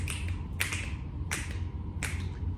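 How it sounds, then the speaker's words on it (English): Four crisp finger snaps about two thirds of a second apart, close and distinct, over a steady low background hum with no speech. "Snap your fingers."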